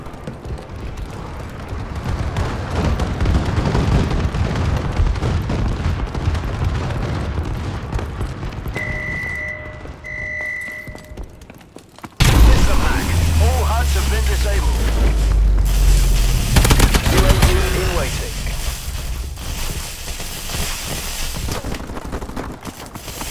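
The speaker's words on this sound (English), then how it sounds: "Enemy bombing run overhead." Heavy booms and rumbling blasts from an enemy bombing run in Call of Duty: Advanced Warfare multiplayer, loud and dense, with a high electronic tone in the middle and an abrupt surge of explosions and gunfire afterward.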